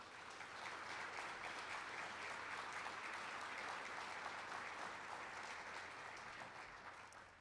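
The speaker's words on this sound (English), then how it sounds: "let's have a round of applause for the Peoria Symphony Orchestra's string" A crowd claps in sustained applause for a string quartet of the Peoria Symphony Orchestra, even and dense, fading slightly toward the end.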